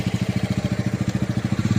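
A motorcycle engine chugs in a steady, rapid pulsing beat up close, loud and continuous with no talk over it, as the bike is ridden along and brought in to park at night.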